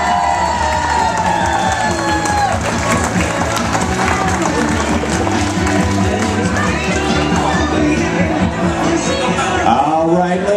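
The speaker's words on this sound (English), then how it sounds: "Give a nice big round of applause." Wedding guests at a reception at Venus II Restaurant in Marshfield, Massachusetts, applaud and cheer in a sustained, dense wash of clapping and crowd noise that holds steady for the full stretch.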